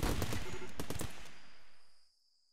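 Rimworld video game gunfire: a rapid burst of several sharp shots over about a second and a half, fading out with a faint high ring afterward.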